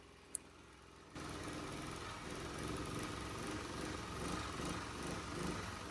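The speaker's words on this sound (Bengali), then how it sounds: "আমাদের ইঞ্জিনে কিন্তু খুব স্ট্রং ভাবে চলতেছে।" A petrol generator, recently fitted with a replacement AVR, starts up after a quiet moment and runs with a steady, close droning engine hum and mechanical vibration.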